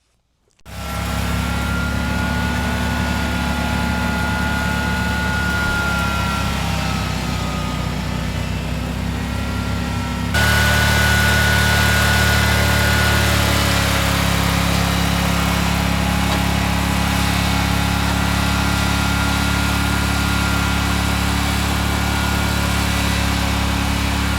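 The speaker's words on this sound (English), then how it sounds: "get on the tractor and start pushing stuff together and making a new pile" A farm tractor engine idles steadily and loudly nearby on a composting job, with a continuous droning hum that grows slightly louder partway through.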